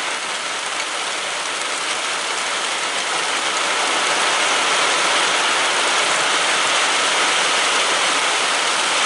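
Steady rain hisses down continuously at a lumber kiln, a dense even wash of drops pattering on surfaces with no other sounds.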